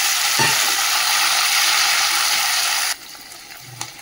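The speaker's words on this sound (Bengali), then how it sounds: "সব পেঁয়াজটা যে ভালো করে ভেজে নিয়েছি, এর মধ্যে দিয়ে দেবো যে টমেটো আর কাঁচা লঙ্কা।" Tomato and green chilli dropped into a pan of fried onions, a loud steady sizzle that cuts off sharply to a quieter simmer with a faint clink of utensils.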